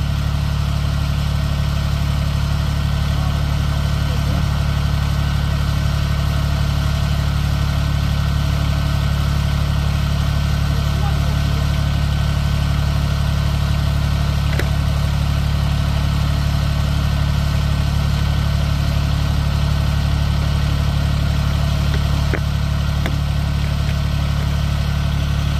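An Iseki PR63 rice transplanter idles through a test run, its engine holding a steady, loud mechanical drone with a low hum and faint rattles, with no talk over it.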